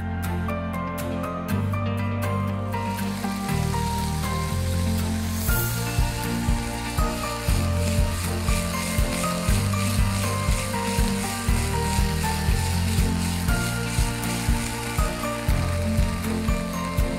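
Chicken pieces frying in hot oil in a pan give a loud, steady sizzle that runs unbroken throughout, with a rhythmic mechanical clicking mixed in.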